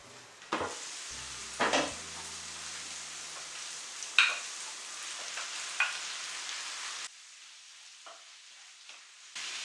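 Small pieces of chicken fillet frying in a pan with softened onion, a steady close sizzle broken by several sharp clatters of stirring, quieting near the end.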